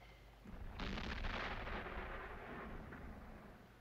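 In a western film, a distant deep boom of cannon fire or thunder swells and rolls for several seconds, a faint, low rumble with no voices.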